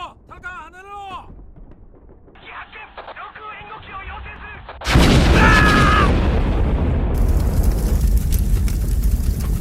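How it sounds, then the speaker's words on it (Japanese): A barrel blows up in a war-themed shooter video game, a sudden loud blast partway through that leaves a sustained roaring, crackling rumble; voices and radio chatter are heard before it. "樽が爆発するぞ。"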